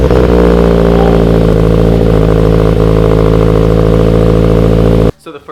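Scion FR-S / Subaru BRZ boxer engine running with a catback exhaust before a header install: loud, steady droning idle with a slight rev near the start, continuous until it cuts off abruptly near the end.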